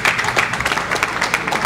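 A crowd applauds a champion at the final of a Brazilian individual bowling championship, lively uneven clapping from a nearby group with distinct individual claps standing out.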